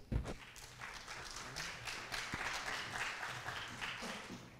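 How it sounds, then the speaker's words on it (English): A small group applauds at a university youth forum closing ceremony, a dense patter of hand claps rising and then tapering off, with no talking. "let's give them a round of applause"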